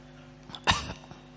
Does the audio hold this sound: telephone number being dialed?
no